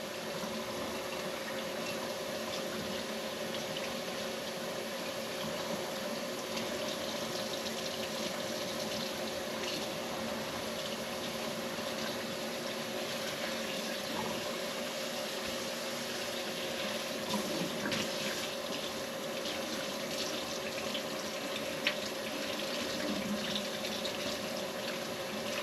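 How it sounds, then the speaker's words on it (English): Hot water runs steadily from a kitchen faucet into a sink, a constant even rush with no pauses and no voices over it. "I'm running hot water."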